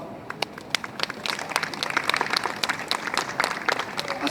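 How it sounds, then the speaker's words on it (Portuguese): A crowd applauds after a poetry reading in a hall, starting with scattered sharp claps that thicken into steady, fairly close applause. "As palmas são para o Dobal"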